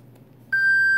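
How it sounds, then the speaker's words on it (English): Electronics in a Horizon Hobby Viper 70mm RC jet emit a loud, steady high-pitched tone after the battery is plugged in, starting abruptly halfway through over a quiet low hum and holding without a break. "This just keeps beeping forever."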